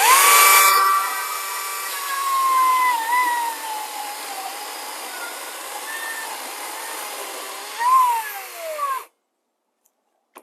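An Ego battery-powered chainsaw fitted with a new Oregon chain whirs at high pitch, revving up and easing down in smooth electric whines, with a brief surge near the end before cutting off abruptly to silence.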